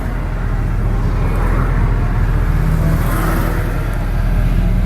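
A 1966 Dodge Monaco 500 with a 383 four-barrel V8 runs through its gears, a loud, steady engine drone heard from inside the car without speech.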